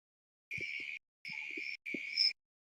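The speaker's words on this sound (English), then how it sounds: "Yeah, it's crickets." Crickets chirp in the background in three separate bursts of shrill, buzzing trills, each about half a second long with short gaps between, faint and distant, alongside low soft knocks.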